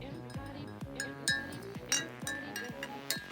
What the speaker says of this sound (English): just stir that into the coffee